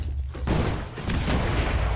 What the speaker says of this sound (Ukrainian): Він стріляє по своїх містах.